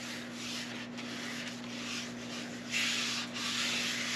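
Crisco shortening rubbed into a cake pan for hot milk cake, a steady close scraping and rubbing sound that runs continuously with slight swells, under a constant low hum and without talk.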